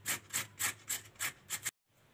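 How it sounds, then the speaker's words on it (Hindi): Carrots being grated by hand on a grater, six quick, evenly spaced rasping strokes close up, each a bright scraping burst, then an abrupt stop into quiet. "सबसे पहले हम अपनी गाजरों को कद्दूकश कर लेते हैं"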